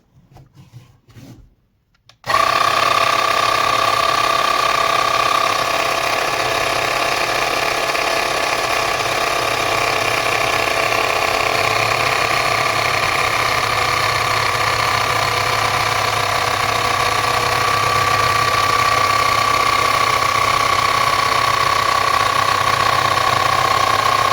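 An ATRIA MS22C-205 cordless air compressor starts after a brief quiet moment and pumps air with a steady, loud mechanical drone and whine that runs unbroken to the end, with no talk over it.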